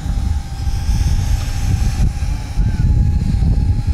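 Loud, steady propeller buzz from an iFlight Bumblebee cinewhoop FPV drone in flight, with a constant whine, mixed with rumbling wind noise, continuing without pause.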